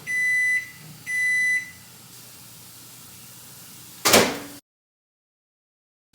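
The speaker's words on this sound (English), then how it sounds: "then I'm just gonna pop this in the microwave" Microwave oven heating food: two short electronic beeps close together, a pause with a faint hum, then a sharp clack of the door before silence.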